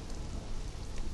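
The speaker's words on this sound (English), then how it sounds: "it's actually raining" Steady, dense rain hisses without a break in Conan Exiles, a soft, even wash of falling drops with no voices over it.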